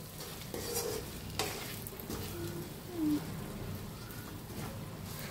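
A spoon stirs a stuffed eggplant mixture in a pan, a soft scraping and faint sizzle, quiet and close with a few louder clinks against the pan.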